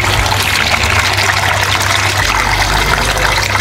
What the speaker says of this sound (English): You can see the water is draining.